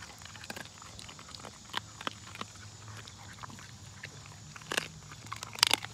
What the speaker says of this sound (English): That's how a dog is supposed to sound when it's eating. Bones crunching.